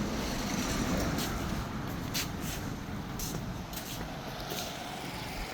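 A steady, low rumble from a Kawama 155 diesel engine fitted with an electric starter and key switch runs throughout, with broadband noise like wind or water over it and no talking.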